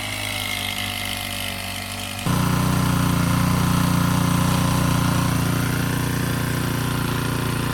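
An engine-driven spray pump runs on a farm field, a loud, steady mechanical drone with rapid pulsing that jumps to a heavier, fuller roar partway through and holds constant.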